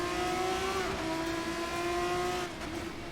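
A race car launching hard in the Assetto Corsa driving game, its engine revving in a loud, sustained, close drone that holds high and then eases slightly, with no talk.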